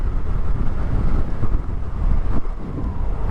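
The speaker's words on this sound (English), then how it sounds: "it is so windy right now. I can feel the wind just pushing against me." Strong, continuous wind buffets the microphone while riding a NAXEON I AM street-legal electric motorcycle, a loud low roaring rumble with gusty swells and no speech.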